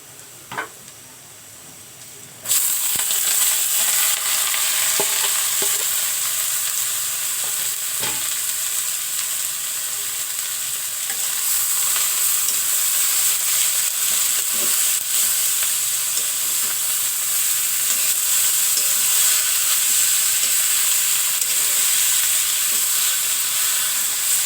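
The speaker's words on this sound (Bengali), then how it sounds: "এবারে আমি লাউ শাকগুলো দিয়ে দিব" Bottle gourd leaves drop into a hot pan and burst into a loud, steady sizzle and hissing fry that continues unbroken, with faint stirring clicks, after a quieter opening.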